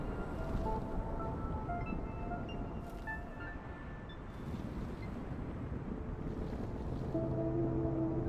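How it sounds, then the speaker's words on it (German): Wind blows steadily across an alien landscape in the video game Astroneer, a continuous broad rushing roar with slight swells and a few faint tonal game sounds layered on top. "es hört hier gar nicht auf mit dem Wind hier."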